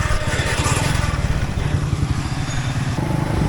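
A ten-year-old Dayang Runner 80cc motorcycle, bought in 2014, idles outdoors with a rapid, steady putter and clattering engine pulses close by, with no talk.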